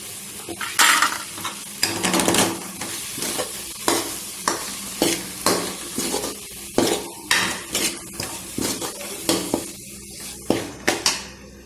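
Chilli powder masala for a Tamil okra curry is stirred and sautéed in a pan, a steady run of about a dozen scraping, clinking spoon strokes against the metal over a soft sizzle, close and fairly loud, with no talking.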